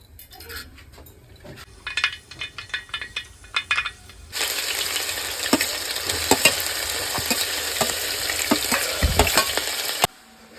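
Mustard seeds spluttering in hot oil for a Kerala beef dish: a few faint clinks, then a loud, steady sizzle with sharp crackling pops that runs close up until it cuts off abruptly.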